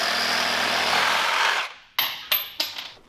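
A power saw cuts off a steel transfer case bracket with a loud, harsh grinding roar that stops abruptly, followed by three sharp metallic clanks.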